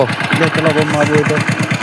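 A motorbike engine pulls up close by with a steady, pulsing mid-range throb over the whole stretch, and people talk over it.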